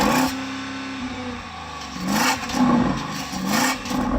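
A Porsche Cayenne Turbo GT engine revs up in repeated bursts at a standstill, its pitch rising and falling over a steady idle, loud and close with no talking.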